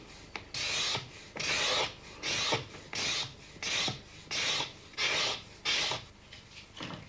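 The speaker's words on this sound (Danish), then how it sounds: "Nu skal bogen så ved hjælp af stigeklinger og sandpapir gøres fuldstændig blank og glat." A bookbinder scrapes and sands a book's edges with scraper blades and sandpaper, making about nine rhythmic rasping strokes, each a second-long gritty rub with brief pauses between, close and steady, with no talking.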